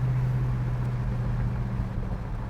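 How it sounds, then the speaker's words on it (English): A 1972 Oldsmobile 442's engine idles with a steady, low exhaust rumble and burble continuously at close range, with no voices. "Exhaust sounds great."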